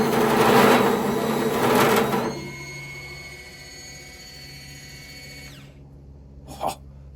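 A powered grill brush whirs with a steady motorized hum and a scrubbing, rattling texture for a couple of seconds, then runs smoother, then winds down and stops, ending with a small click.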